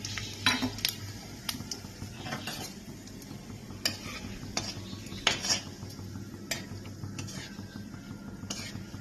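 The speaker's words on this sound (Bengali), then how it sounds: "এবার এই তেলের মধ্যেই আমি গোটা জিরে তেজপাতা আর গোটা গরম মশলা ফোড়ন দিয়ে দিচ্ছি" Whole cumin, bay leaf and whole garam masala temper in hot oil for katla fish head kalia, a soft sizzle beneath scattered spoon clinks and pan scrapes at an irregular pace, no voices.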